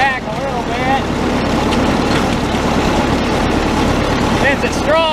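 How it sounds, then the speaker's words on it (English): A Super 55 diesel tractor idles in a straw field, its low, steady engine rumble close and loud throughout, with faint whistling or speech-like sounds at the start and end. "I jumped up to 5th gear so I can idle the tractor back a little bit"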